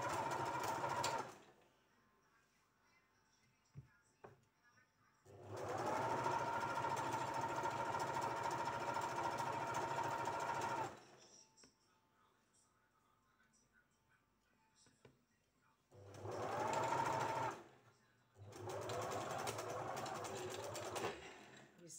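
A sewing machine stitches dress fabric in several bursts, each a steady buzzing hum lasting a few seconds, separated by quiet pauses with faint handling noises.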